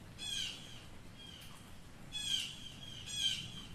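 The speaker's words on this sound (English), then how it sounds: "You hear the birds?" Birds chirp in bursts of high, trilling calls, three clear phrases with short pauses between, moderately close against quiet background.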